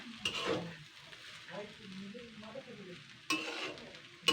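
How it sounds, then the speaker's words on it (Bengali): Quiet, close stirring in a pan of fish egg mixture with spices and a drizzle of ghee, soft scrapes and a low sizzle with a couple of sharper utensil knocks. "তো এবার এটাকে আবার একটুখানি হালকা নাড়াচাড়া করে নেব এইভাবে"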